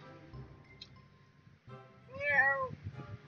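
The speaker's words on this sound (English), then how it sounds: "Those damn cats are everywhere." A cat gives a single clear, drawn-out meow close by, following a few soft low thumps and rustles in an otherwise quiet room.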